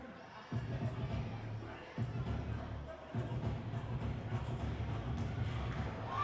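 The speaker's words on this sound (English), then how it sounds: "this crowd is going bananas" A crowd at an independent wrestling show roars and cheers in sustained waves, with commentators talking over the noise.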